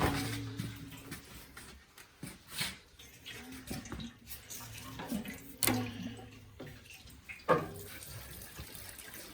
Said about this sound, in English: I'm just going to pour some fuel in and let it drain through